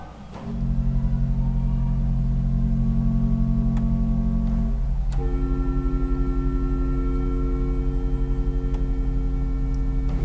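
A sustained chord on the Willis pipe organ of Maitland Uniting Church, closed swell box, hums steadily, muffled and even, then shifts two octaves higher, sounding slightly boxed-in, with a faint low drone underneath.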